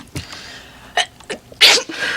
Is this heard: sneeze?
yes